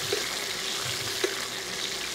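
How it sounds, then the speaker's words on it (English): Butter sizzles and spits around seared meat with rosemary and thyme while it is basted, giving a steady close hiss with faint scrapes and one small clink midway; no voices are heard. "all we want to do is baste this with all that butter"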